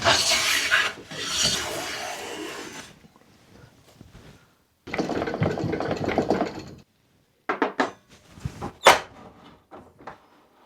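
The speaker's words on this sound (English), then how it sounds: "So I'm going to plane one edge down" A hand plane shaves along the edge of scrap pallet wood in long, loud rasping strokes separated by quiet pauses, followed by a flurry of shorter, choppier scrapes and knocks.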